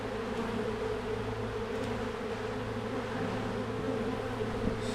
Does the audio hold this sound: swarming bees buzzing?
yes